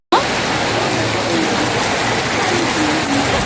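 Heavy rain pours down steadily on a Guwahati street during a rainy festival day, a loud, dense, unbroken wash of hiss close by, with no voices.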